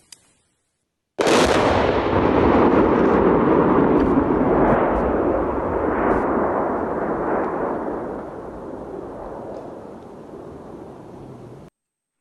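A controlled detonation of a missile by bomb disposal experts erupts as one loud blast after a moment of silence, followed by a long rumbling roar that slowly fades over about ten seconds, heard alone without talk.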